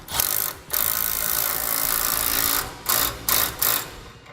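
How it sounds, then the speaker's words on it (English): A ratchet with a 15mm socket tightens flange lock nuts on a fifth wheel trailer hitch in a 2017 Ram 3500, a continuous close, loud clicking whir broken by a few brief pauses near the end. "Now we use a 15mm socket and we'll tighten these down."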